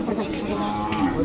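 Calves low at an Ongole cattle market in Kodada, a short continuous moo heard close amid steady crowd noise.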